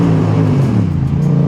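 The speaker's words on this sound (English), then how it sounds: "Always got to hit a little rev under the tunnels." A motorcycle engine revs loudly under a tunnel while riding in the rain, a steady low roar that stays close and continuous throughout, with no talk.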